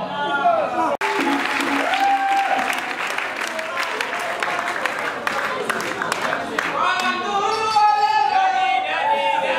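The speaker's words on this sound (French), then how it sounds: "d'applaudir très très fort" A concert-hall audience at a live stage show breaks into loud, sustained applause. Dense clapping and crowd noise fill the room throughout, and a voice briefly rises over it near the end.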